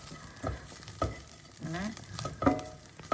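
Chopped garlic and ginger fry in a pan for an egg curry, a gentle sizzle broken by repeated stirring scrapes and taps of a spoon, close by and without speech.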